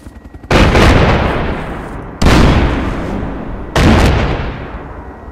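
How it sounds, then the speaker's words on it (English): Three heavy explosions from a vehicle being blown up in a Warzone video game, each a loud sudden boom with a long rumbling decay, spaced about one and a half seconds apart after faint ticking. "Oh, he's blew up the vehicle."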